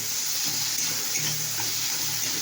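Starfruit frying in a pan while being stirred, a steady close hiss of sizzling oil with faint scraping stir strokes running throughout.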